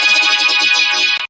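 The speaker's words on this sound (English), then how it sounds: "So I basically just reversed that sample and routed it through PitchMap so it sounds like this." Reversed riser sample processed through a PitchMap plugin in an electronic remix drop, a bright dense tonal swell with a steady high whistle line that builds, then cuts off abruptly with a brief stutter at the end.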